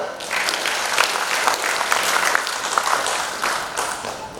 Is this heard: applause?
yes